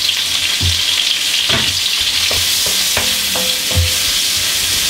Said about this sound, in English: okay, so you're just going to stir fry these zucchini